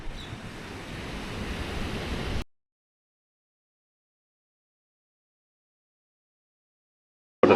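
Surf washes in at Middleton Beach in Albany, heard as a broad, steady roar with wind noise on the microphone for about two seconds before the sound cuts off abruptly into silence.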